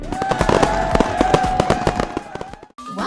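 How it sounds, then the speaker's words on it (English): Dense, crackling bursts of cartoon fireworks celebrate the end of an animated puzzle, popping rapidly and loudly with a tonal whistle underneath before a brief gap and a new sound starting. "Let's celebrate with those fireworks!"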